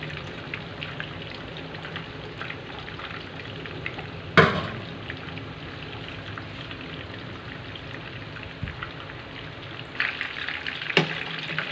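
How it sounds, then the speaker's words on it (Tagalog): Steady crackling and sizzling of breaded milkfish frying in hot oil until golden brown, with a couple of sharp clanks and spatters breaking through, fairly close and without speech. "Prito natin guys hanggang mag golden brown yung isda."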